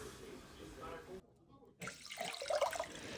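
Tap water runs into a three-litre cooking pot, a broad splashing rush broken by a brief pause before the stream resumes louder and bubbling near the end.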